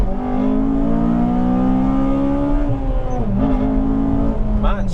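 Honda Civic Type R FD2 engine revving loudly and steadily, with engine pitch rising, dipping briefly during rev-matched shifts, then climbing again, heard up close from inside the car while people talk.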